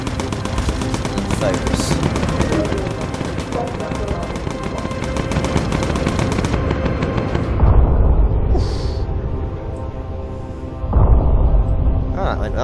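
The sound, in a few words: machine gun defensive fire in the video game Bomber Crew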